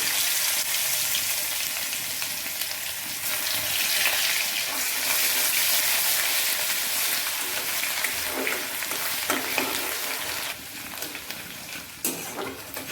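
Onion paste with fenugreek seeds sizzling in hot oil in a home kitchen pan, a steady hiss with occasional stirring scrapes, close and continuous.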